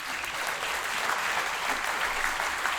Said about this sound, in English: Leo Randolph, Kay Hallgreff, and how about a nice round of applause for our Tacoma Pierce County Hall of Famers,